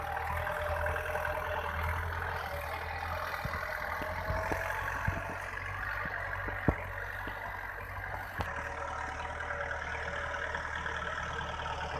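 Kubota L47 tractor engine running steadily while driving along a rice paddy bund, a continuous mid-level drone with a few brief knocks and clunks, no talking.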